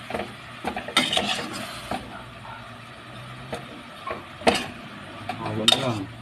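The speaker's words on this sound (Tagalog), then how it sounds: "So, haluin nyo lang." A quick cheap dish is stirred in a pan, with scraping utensil strokes and metallic clinks against the pan in irregular bursts over a soft sizzle, fairly close.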